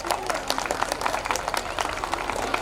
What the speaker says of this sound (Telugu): ఒక్కసారి పిల్లలందరికీ గట్టిగా క్లాప్స్ కొట్టండి సార్